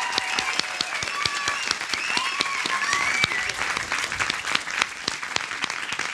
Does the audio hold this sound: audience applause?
yes